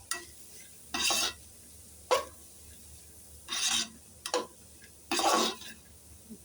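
Cabbage kootu is stirred in a pan over a very low flame, giving five or six separate scraping, rasping strokes with short quiet gaps between them, close and moderately loud.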